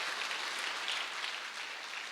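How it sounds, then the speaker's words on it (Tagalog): A church congregation applauding during a worship service, heard as a dense, even patter of many hands clapping at a fairly soft, distant level throughout. "Palakpak ko para sa ating Panginoon."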